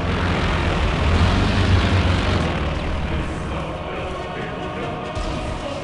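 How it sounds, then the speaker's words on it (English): Airplane engine passing overhead in the World War II strategy game Company of Heroes 2, a broad roaring drone that swells then gradually fades, loud and continuous. "Airplane!"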